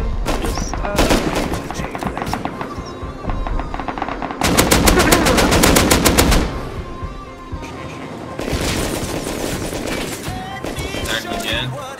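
Loud, rapid automatic gunfire from the survival video game Rust, coming in long bursts and a dense sustained volley, with short pauses between and some speech mixed in.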